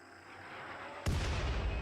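Mortar fire and explosions in RimWorld: quiet low rumble, then one sudden loud boom that lingers with a rolling, crackling tail.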